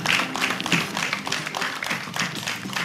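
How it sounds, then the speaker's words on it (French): Studio audience at a televised singing competition applauds a contestant kept for the finals, a dense, even patter of many hands clapping close by, with no talk over it. "On peut applaudir pour lui."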